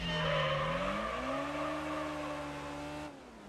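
A Honda S2000 engine in Gran Turismo 3 holds a steady high rev, pitch climbing briefly then sustaining before cutting off near the end, loud and close with no talk.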